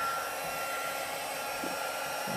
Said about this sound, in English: I'm going to be using the heat tool